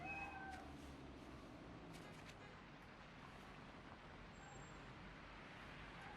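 A cat in the Spider-Man Miles Morales game on PS5 lets out a couple of short, close meows at the start over a low ambient city hum, which carries on alone afterward.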